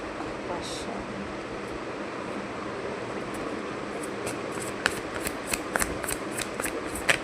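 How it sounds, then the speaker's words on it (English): Tarot cards shuffled by hand during a yes-or-no card reading, a steady papery riffling and rustling with a run of sharp, crisp card snaps growing closer together toward the end, with no voice over it. "I'm shuffling them live and I'm doing the reading live."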